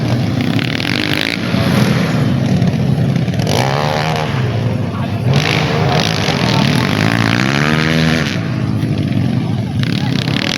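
Dirt bike engines rev and rise in pitch repeatedly at an autocross race in Kavalkatte, heard over a continuous announcer's voice on loudspeakers.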